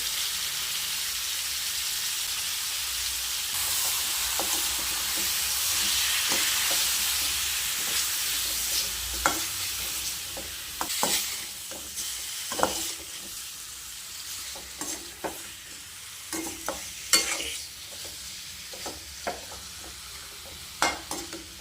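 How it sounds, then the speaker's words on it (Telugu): Yellow chicken heavy with turmeric fries in a pan with a steady loud sizzle, while a spoon scrapes and stirs through it in irregular clacks that grow more frequent toward the end. "ఒక 10 మినిట్స్ బాగా ఫ్రై అవ్వాలి. ఇదిగోండి బాగా ఫ్రై అయ్యింది."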